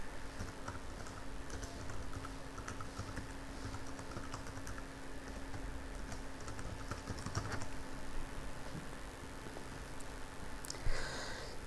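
Fingers tap steadily on a computer keyboard, quiet scattered keystrokes clicking across the whole stretch over a low electrical hum, with a louder burst of keys near the end and no talking.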